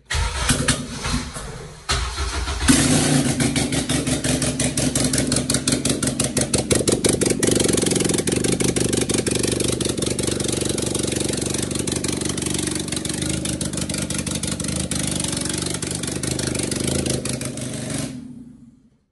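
A K-swapped car with an open header cranks for a couple of seconds, fires up loudly, then settles into a harsh, rapid, raspy idle that runs steadily close to the listener until it shuts off near the end.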